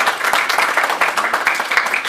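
An audience at a school board of education meeting claps for the companies' board, a brisk, steady burst of many hands clapping nearby that fills the whole moment.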